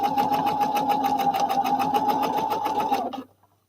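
A sewing machine runs steadily, stitching a romper from a Simplicity S9151 pattern, its rapid even whir close and continuous for about three seconds before stopping abruptly.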